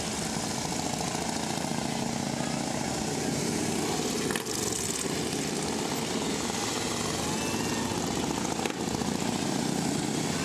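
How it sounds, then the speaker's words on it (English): Loud, continuous engine rumble of several Harley-Davidson Ultra Classic motorcycles idling and revving nearby at a parade, steady throughout with a couple of brief dips. "those Harley-Davidsons have their own sound, that's for sure"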